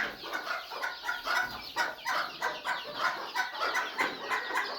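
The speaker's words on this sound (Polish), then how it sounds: "Chyba jedynie te kurczaki wam mogę pokazać" Young chickens nearby cluck and peep in a busy, repeated rhythm of short calls with no voices over them.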